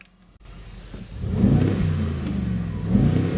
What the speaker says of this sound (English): Let's see if we can rev it in live.